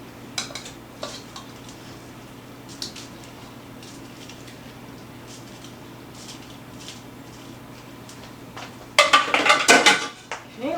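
Seafood mac and cheese stirred in a pan, soft squishy scraping with scattered spoon clinks against the metal, building into a burst of louder clattering near the end, close by with no talking.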